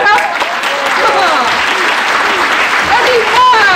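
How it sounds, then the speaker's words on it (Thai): Studio audience applause on a Thai comedy talk show, steady dense clapping from a crowd filling the room, loud and sustained throughout with some voices mixed in. "ขอเสียงปรบมือครับ"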